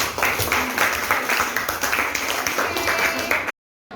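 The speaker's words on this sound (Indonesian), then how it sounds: "Tepuk tangan buat semuanya." A classroom group applauds together, a steady dense patter of many hands clapping at close range for about three and a half seconds before it stops abruptly.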